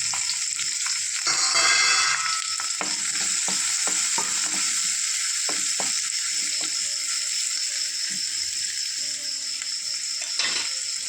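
Green chillies and coconut frying in a pan give a steady broadband sizzle, with scattered clicks from stirring running throughout.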